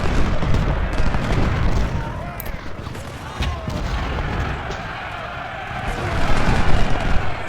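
Cannon and musket fire roll through a Civil War battle at First Bull Run in a strategy video game, a dense, continuous barrage of overlapping booms and crackling volleys, swelling louder near the end.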